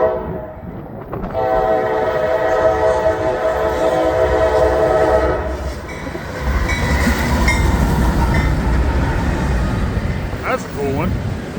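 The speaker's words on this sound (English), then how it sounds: "Got here just in time to catch a train." An eastbound Norfolk Southern intermodal freight train with two locomotives up front passes close by, a long sustained horn blast giving way to loud rumbling wheels and rail noise, with a brief voice near the end.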